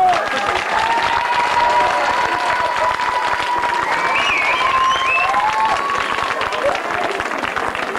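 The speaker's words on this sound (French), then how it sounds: "je vous demande d'applaudir" Outdoor crowd at a 50th-anniversary liberation commemoration applauding British commandos, sustained dense clapping close and loud, with a few faint tones and voices drifting over it.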